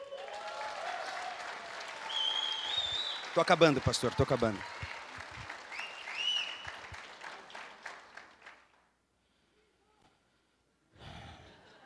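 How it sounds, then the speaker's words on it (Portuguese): Church congregation applauding for the Lord during a birthday recognition, a burst of clapping under speech and voices, fading before a quiet gap and a brief final sound. "Aplaudam ao Senhor."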